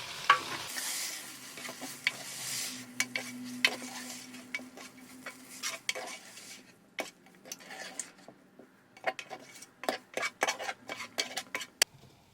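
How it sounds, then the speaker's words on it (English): Chicken fried noodles in a multicooker are mixed with a utensil, producing a long run of close clacks and scrapes against the pot in irregular bursts over a faint background sizzle. "Give it a good mix."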